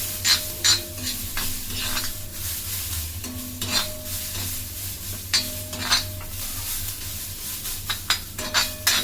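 Garlic frying in a pan for Malvani-style mutton, a steady low sizzle broken by repeated sharp scrapes and clinks of a spoon stirring against the pan, close and without voices.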